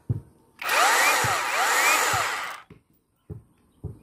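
A Makita cordless hammer drill whirs at full speed for about two seconds, loud and close, with the motor pitch rising and falling, then winds down, followed by a few sharp clicks and knocks.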